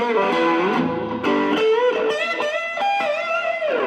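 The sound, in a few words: guitar through Vox Lil' Night Train amp thick channel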